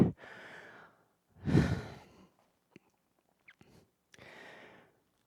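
Deep, close breaths after a set of an upper body resistance band workout, with three long airy exhales separated by pauses and faint small clicks and mouth noises in between, with no talking.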